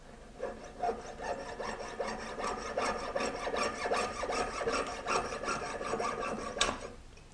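A hand saw rasps back and forth through metal tubing held in a guide jig for measured cuts, a steady rhythmic scraping stroke close by, with no talking.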